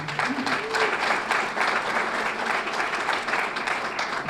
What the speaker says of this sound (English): So a round of applause to them as well.